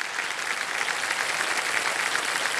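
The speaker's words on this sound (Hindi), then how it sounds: "तालियां बज जाए इनके लिए" Studio audience on the Hindi TV quiz show Kaun Banega Crorepati applauds a contestant, a dense, even roar of clapping that holds steady throughout with no talk over it.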